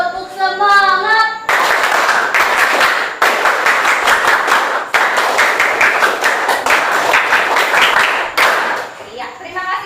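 Children join in a loud group spirit clap with a fast, patterned rhythm, repeated in bursts. Voices are heard briefly before and after the clapping.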